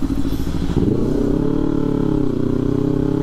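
Motorcycle engine running close by on a bridge, a steady loud throaty idle with a slight rise in revs, rumbling continuously with some clattering.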